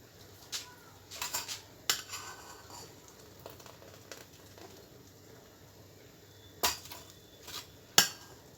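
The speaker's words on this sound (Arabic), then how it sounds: "تعالوا بقى نصب كده الرز اللبن بتاعنا في الكاسات دي ولا في الاطباق دي" Rice pudding served into stainless steel cups and dishes gives scattered light clinks and scrapes of metal and spoon, a few sharper taps standing out against a quiet room.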